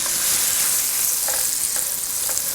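Nacho ingredients sweating down in a hot pan, a steady bright sizzle with a few soft stirring scrapes, close and continuous with no talking.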